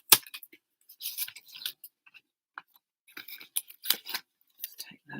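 Scissors cut out paper tags: short bursts of crisp snipping and rustling paper, close up, separated by brief pauses, with no talk.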